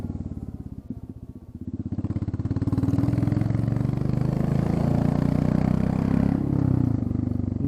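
A Royal Enfield Classic 350 single-cylinder motorcycle with its exhaust tip removed thumps out a rapid, even pulse, starting softer then swelling to a loud, steady open-exhaust drone close by, with no talking.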